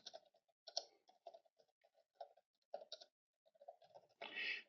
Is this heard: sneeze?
no